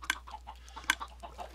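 Chickens clucking in the video game Minecraft, a few short sharp clucks standing out near the start and middle over a soft run of quieter fowl calls, with no talking.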